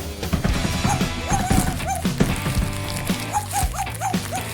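A dog gives a series of short barks and yips over bouncy background music, the barks repeating irregularly and clearly in the foreground.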